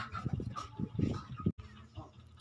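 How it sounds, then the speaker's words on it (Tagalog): A stray dog returning to a house whimpers and yips, then gives short barks in quick bursts, fairly close, followed by softer whining. "ilang araw na tong aso na to, pabalik-balik dito."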